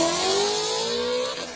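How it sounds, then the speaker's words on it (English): A Ford Mustang S550 with straight pipes revs hard, its raspy exhaust holding a loud, steady, rising drone throughout, close by with no talking. "that is the raspiest Mustang, especially an S550, that I have ever heard"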